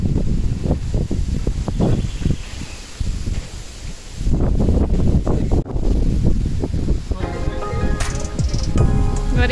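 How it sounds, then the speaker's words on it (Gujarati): Outdoors on a village farm plot in Gujarat, wind and rain gust hard, buffeting the microphone with loud rumbling bursts and rustling leaves. The noise swells and drops in uneven waves. "વળી ચાલુ થયો વરસાદ ને પવન"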